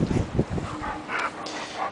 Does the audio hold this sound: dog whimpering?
yes